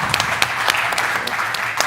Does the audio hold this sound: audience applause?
yes